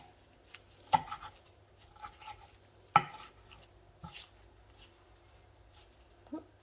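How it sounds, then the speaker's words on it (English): A few sharp knife chops through vegetables on a cutting board, cut coarsely, spaced irregularly, with small clicks and taps between, close and fairly quiet. "we're not chopping those too fine"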